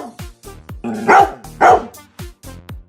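A dog barking in a quick series of sharp barks, loudest in two bursts near the middle, with short yips around them, close and alone.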